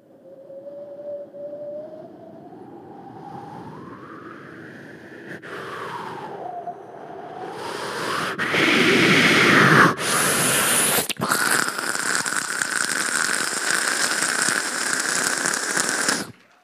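A performer at a university mimicry contest voices a storm: a rising, wavering wind howl that swells into loud, dense rushing and crackling bursts like gusts and pouring rain, building steadily and staying loud to the end, with no talk.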